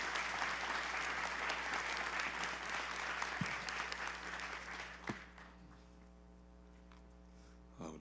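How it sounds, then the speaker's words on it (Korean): An audience at a New Year special dawn church service applauds with dense, sustained clapping for about five seconds, then it fades out, leaving a low hum and a faint tone. "박수로 우리 환영해 주시면 좋겠습니다"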